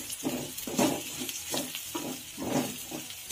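Red chili powder and Byadgi chili powder sautéing in hot oil in a pan for dried Bombay duck chutney, a steady close sizzle with soft stirring scrapes rising and falling throughout, no talk.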